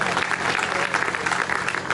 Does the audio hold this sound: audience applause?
yes